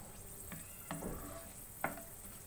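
Fenugreek-seed tempering for a mango pickle gives a faint, steady sizzle in the pan, with a few soft clicks and stirring sounds scattered through.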